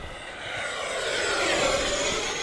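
An FMS F-16C 70mm electric ducted fan RC jet in the Thunderbirds scheme at full throttle, giving a loud, steady, rushing whine that builds slightly as it climbs, with no talking.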